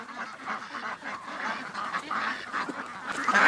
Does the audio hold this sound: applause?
no